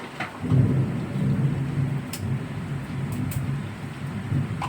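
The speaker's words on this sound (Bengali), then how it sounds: "ভীষণ বৃষ্টি হচ্ছে বন্ধুরা, কি বলবো, বৃষ্টিতে পুরো বন্যা বয়ে যাচ্ছে" Heavy monsoon rain pours outside during a downpour, with a low, continuous rumble like distant thunder and a steady wash of rainfall. A few faint clicks come from a nearby kitchen.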